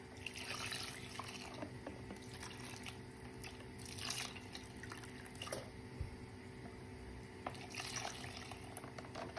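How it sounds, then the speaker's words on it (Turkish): Lukewarm water poured into a mixture for homemade butter, a steady soft splashing and trickling that runs the whole time with small swells, close and fairly quiet, with no talking. "Burada ben ılık suyum var ekleyeceğim."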